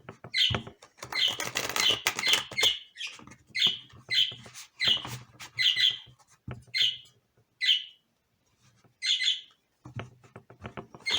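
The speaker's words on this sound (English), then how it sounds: "Oh, these birds are starting up today." Outdoors, birds give bright, repeated chirps in short bursts with brief pauses, while softer fluttering and pattering sounds suggest wings flapping nearby.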